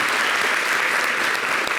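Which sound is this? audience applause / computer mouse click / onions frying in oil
audience applause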